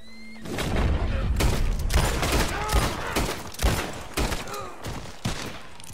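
Gunshots in the video game Red Dead Redemption 2 crack out in a rapid, irregular string of loud booming reports, closely spaced and fading slightly toward the end.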